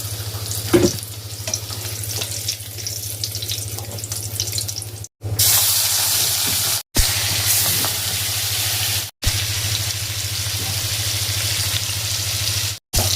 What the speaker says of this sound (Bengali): মাছগুলো দেখুন ভেজে নিয়েছি